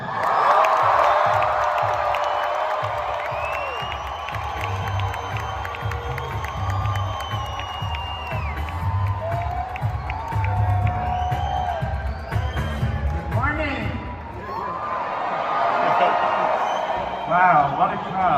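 A large live convention audience in London cheers, whoops and shouts as Bob Proctor is welcomed to the stage, a loud sustained roar with scattered high calls and whistles that swells again near the end.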